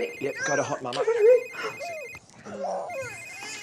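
A mobile phone rings with a repeating electronic ringtone among friends deciding to leave a night out. The ringtone plays steadily under loud, overlapping conversation.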